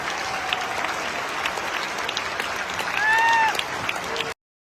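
Standing ovation for a Korean pianist after a performance, dense sustained applause from a large audience, with a couple of rising whistles or shouts near the end before it cuts off abruptly.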